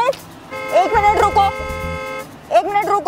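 A car horn honks in steady sustained blasts on a busy road, loud and close, while people talk over it and just after it.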